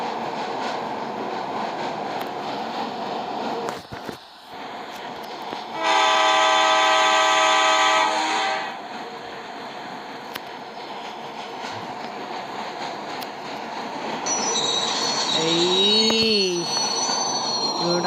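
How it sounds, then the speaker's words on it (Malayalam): A train rumbles past on rails, its horn blaring loudly for a few seconds midway, with a rising squeal and clatter of wagons near the end. "ആ ട്രെയിൻ അതാ പോണേ"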